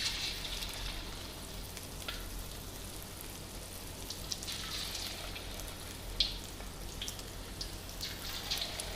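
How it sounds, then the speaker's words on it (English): Chili chicken pieces deep frying in oil in a wok, a steady soft crackling sizzle with scattered sharper pops, fairly quiet and close, with no talking. "You shouldn't be frying them for more than 4 minutes."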